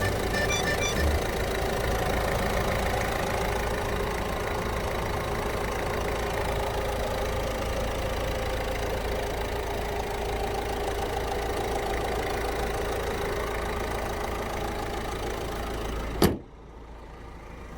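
A steady, loud engine idle hums evenly with a low rumble, then cuts off abruptly with a clunk near the end.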